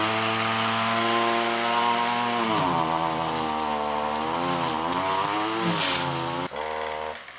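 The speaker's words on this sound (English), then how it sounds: "getting the whippersnipper out, lawn trimmer, weed whacker" A whipper snipper lawn trimmer engine runs loud and steady, its pitch rising and wavering as it revs, then briefly dropping near the end before carrying on.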